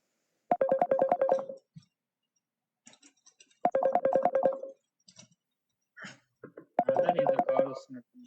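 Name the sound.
phone ringing with an incoming call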